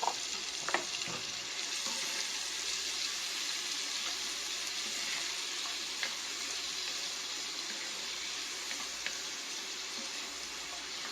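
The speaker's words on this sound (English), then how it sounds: "add our onions and celery to the pan" Onions and celery for clam chowder sizzle in a pan as a continuous bright, dense frying hiss, close and steady, with a few faint clinks of a utensil.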